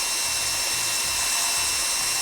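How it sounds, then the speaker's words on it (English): A pilot drill hot tapping into a pressurized pipe for a DN20–DN100 house connection, giving a steady, close, grinding whir of motor and cutting that continues evenly throughout with no talk. "Now I'm going to start the pilot drill hot tapping."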